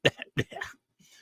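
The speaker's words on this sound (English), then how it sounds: "Let me clear my throat." A podcast host clears his throat up close in a few short, rough bursts within about a second, followed by a faint low rumble.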